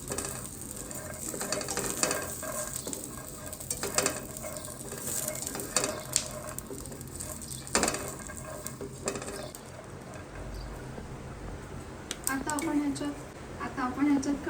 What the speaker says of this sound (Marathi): आता आपण त्याच्यात हे नारळ टाकूया, ओला नारळ, आणि लसूणही टाकूया